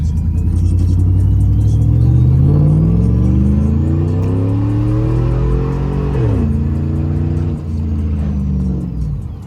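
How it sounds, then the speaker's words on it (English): A squatted truck accelerates at full throttle, its engine note climbing loud and close through several gear changes, with steady rumble underneath. "we're gonna give you guys a full throttle"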